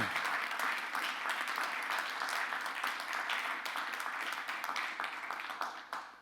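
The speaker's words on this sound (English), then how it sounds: "So a quick round of applause for them." Steady audience applause at an Internet Computer conference talk, a dense wash of many hands clapping at moderate level that holds for several seconds before starting to fade at the end.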